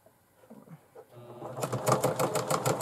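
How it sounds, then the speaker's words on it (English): A sewing machine stitching fabric for a bag starts up after some quiet handling noise and runs in a steady, rapid pulsing burst, close and fairly loud. "So I'm going to start sewing"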